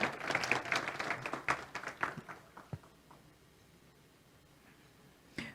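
Conference audience at a forum panel on state infovias applauds, a burst of sharp clapping that thins into scattered claps and fades to near quiet, with a last clap at the end.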